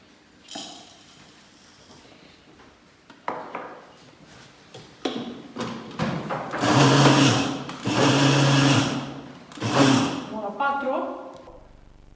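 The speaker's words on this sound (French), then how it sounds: "Pour le bien préparer, vous devez le mixer un petit peu." An electric blender mixing oat flakes in short loud pulses, with clinks of dishes and a voice talking in between.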